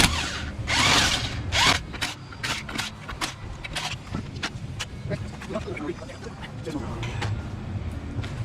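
A ratchet turns the lug nuts on a 2014 Cadillac SRX front wheel with the tire still on the ground, giving a series of sharp, rapid clicking bursts up close, with some talking in the background.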